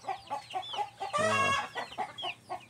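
A male cobra chicken, a bare-necked rooster among many chickens on a farm in Hindang, Leyte, clucks close by in a steady run of short notes, broken once by a louder drawn-out squawk.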